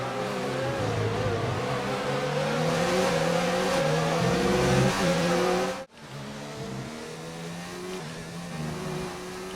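An F1 car in F1 2019 pulling away on a safety-car restart at the Japanese GP: a loud, rising engine whine climbing through gears, cut briefly by an abrupt drop before the droning engine resumes.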